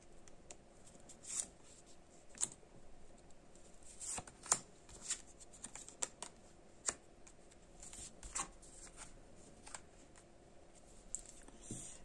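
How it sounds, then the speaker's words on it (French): Cards from a 32-card deck being shuffled, dealt and laid down on a table, quiet scattered snaps and flicks at irregular intervals. "On va remettre une carte sur l'homme et sur la femme."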